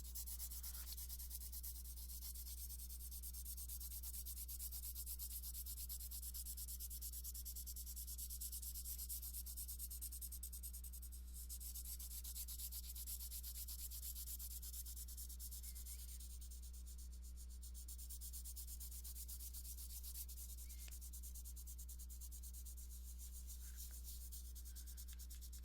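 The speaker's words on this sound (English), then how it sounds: "I'm filling in the entire space with the same pressure, not too hard, literally butterfly kissing it across my paper with the tip of my pencil" A pencil tip shades lightly and evenly across paper, a faint, steady, continuous rubbing over a low background hum.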